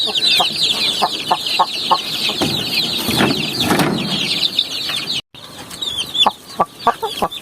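Chicks and young chickens cluck and peep close by in short repeated calls, with a burst of wing flapping in the middle and a brief dropout before the calls resume.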